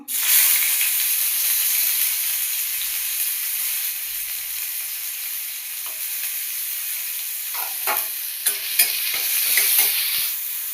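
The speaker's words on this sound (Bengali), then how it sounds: "তেল গরম হয়ে এসছে পেঁয়াজ দেবো" Steady hot-oil sizzle of onions frying, loud and continuous, with a few clinks and scrapes of a utensil stirring near the end.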